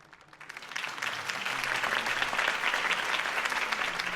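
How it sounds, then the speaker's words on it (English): Crowd applause swells up after a campaign speech in Batman: The Telltale Series video game, a steady dense clapping from many hands that holds for several seconds. "could have heard that applause"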